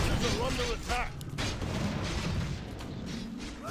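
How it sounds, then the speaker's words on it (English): Repeated booming mortar-team artillery fire from a Warcraft 3 battle, dense and continuous with overlapping blasts, mixed with game sounds and a voice talking over it throughout. "Lots of mortar teams."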